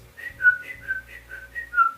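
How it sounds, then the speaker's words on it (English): A thin, wavering whistle from a moving silver sphere rises and falls in a steady repeating pattern, about five pulses over a low hum, quiet and close. "a silver sphere moving with a whistle sounding like that"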